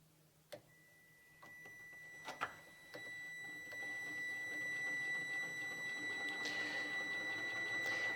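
A homemade electric outboard motor, loose and resting on a bench, spins up on test with a thin high steady whine and faint ticking clicks beneath, growing a little louder after a few soft knocks.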